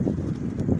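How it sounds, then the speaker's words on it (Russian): Strong wind buffeting the microphone outdoors at an abandoned Soviet-era holiday resort, a loud, low, rumbling roar with uneven gusts. "Ветер такой сильный, не знаю,"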